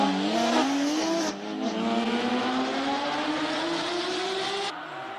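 Porsche GT3 launching off the start line at a Cape Town hillclimb, its engine note climbing steadily in pitch as it pulls away loud and close, with a brief gear change early on and a rising sustained wail.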